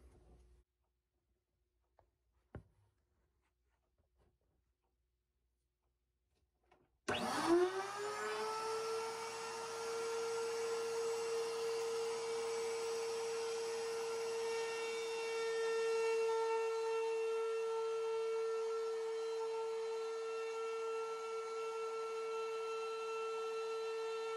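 A woodworking machine cutting a V-groove in a garganelli board spins up abruptly and runs steadily, a loud, sustained whine with a hum beneath it, continuing without pause after a few faint knocks.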